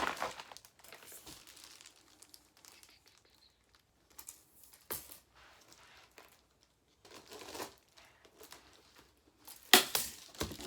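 Window insulation material is cut to size for a car's windows, with sparse crinkling, rustling and snipping sounds in short bursts separated by quiet gaps, close and fairly soft, with no talking.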